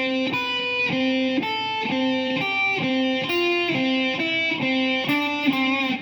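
A guitar plays a descending Aeolian scale exercise in block position, distinct evenly spaced single notes stepping steadily downward, fairly loud and close, with no voice over it.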